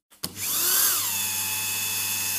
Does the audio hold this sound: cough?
no